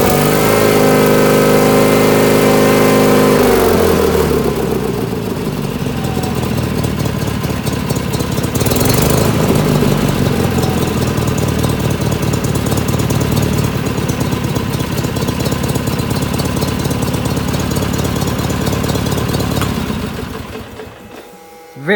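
A 1979 19.9 hp lawn mower engine idles roughly while still cold, a loud, close, steady mechanical chug that runs for about twenty seconds before cutting off.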